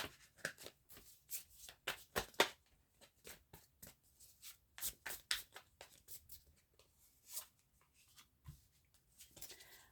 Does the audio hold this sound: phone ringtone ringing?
no